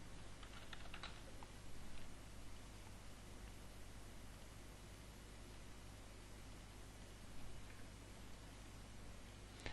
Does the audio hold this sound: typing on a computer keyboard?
yes